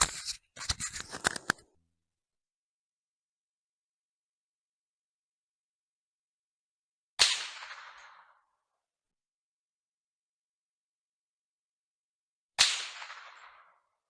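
Two suppressed .22 rifle shots fired with supersonic Mini-Mag ammunition, each a sharp, crisp crack with a short fading tail, spaced several seconds apart amid silence, following a brief cluster of clicks at the start.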